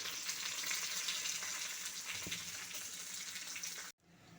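Onion, a dried red chilli and curry leaves sizzle loudly in hot oil, a steady close crackle that runs unbroken, then cuts off abruptly near the end.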